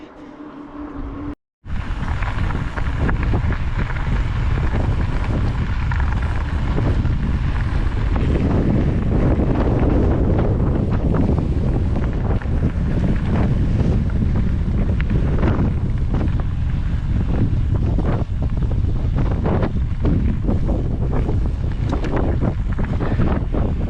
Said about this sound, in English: Well, it's windy out here, but worth it.